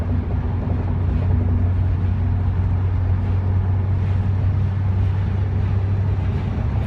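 A Porsche 944 drives along a road and shifts up into fifth gear, its engine a steady low drone with constant road and wind noise throughout.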